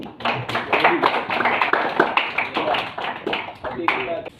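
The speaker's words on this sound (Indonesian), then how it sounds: "Baik, tepuk tangan lagi." Classroom applause, a group of students clapping irregularly for several seconds with voices mixed in among the claps.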